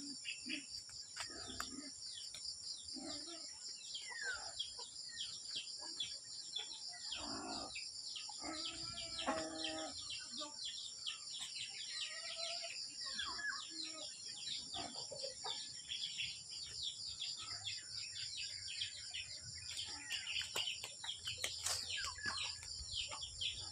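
Chickens call in an outdoor yard, their short clucks and calls rising now and then over a constant high chirring of insects and occasional birdsong, with no talk.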